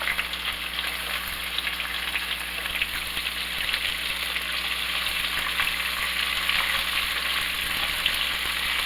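Onions sizzle and fry in a hot pan with oil while making minestrone soup, a steady crackling hiss with fine popping, moderately quiet and continuous, no talking.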